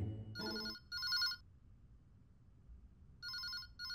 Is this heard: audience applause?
no